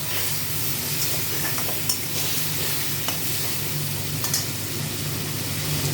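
Spiced masala of ginger, cumin, salt, sugar and a little chili powder sizzles while being stirred and sautéed for a katla fish curry with potatoes: steady close frying hiss with soft scraping, no voices.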